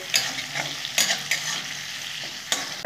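Onions fry in hot oil with a close, steady sizzle, interrupted by a few sharp scraping stirs of a spatula against the pan.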